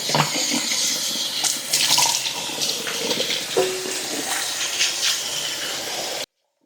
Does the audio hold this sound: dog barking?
no